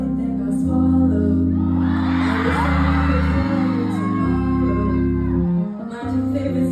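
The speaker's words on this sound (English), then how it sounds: "The crowd went feral" A concert crowd at a show cheers and whoops loudly under sustained musical chords, the roar of many voices swelling across several seconds.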